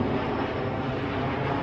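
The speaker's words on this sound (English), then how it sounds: "We're also in a flight zone from the airport, so it's like this is planes overhead" Airplanes pass overhead in a flight zone near an airport, a loud, steady engine roar filling the whole stretch without a break.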